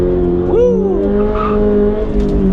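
A Toyota GR86 accelerates hard on a racetrack, its engine note rising while the tires give a brief, loud squeal early on, then the engine keeps droning close up, with a brief voice at the edge.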